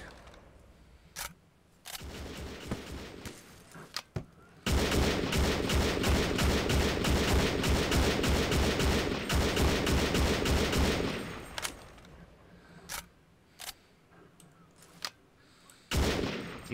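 An FG-42 rifle firing in Garry's Mod, single sharp shots followed by a long sustained automatic burst, then more scattered single cracks, loud and close.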